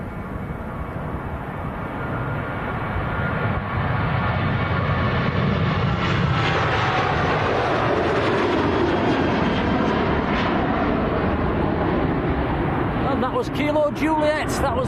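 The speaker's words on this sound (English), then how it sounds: "next to go, got Ryanair on the roll." A Ryanair jet bound for Corfu rolls for takeoff at Manchester Airport, its engine roar loud and continuous throughout, swelling in the middle, with voices talking over it near the end.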